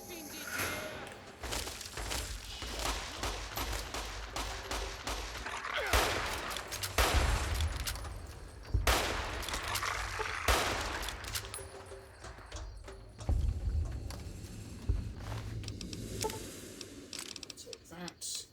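Scoped hunting rifle fire from Fallout New Vegas, several loud reports at irregular intervals with a steady game-world background in between and no talk over the shots.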